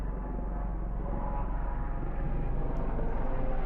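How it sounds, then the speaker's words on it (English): A loud airplane passes overhead outdoors, its steady broad engine roar holding throughout and swelling slightly toward the end, with no talk over it. "There's a loud plane."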